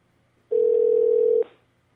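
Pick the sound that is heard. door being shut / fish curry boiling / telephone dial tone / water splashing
telephone dial tone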